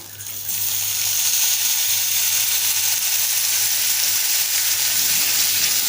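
Onion tempering sautéing in a pan for kanda poha, a loud, even hiss of sizzling oil heard close and unbroken throughout.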